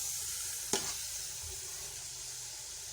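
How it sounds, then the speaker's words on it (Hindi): Gajar ka halwa, grated carrot pudding, sizzles steadily as it roasts in ghee in a large open pan, with a single sharp scrape of the stirring spoon early on against the constant frying hiss. "हमें बिल्कुल भून लेना है हलवे को। घी छोड़ देगा हलवा हमारा तो रेडी हो जाएगा।"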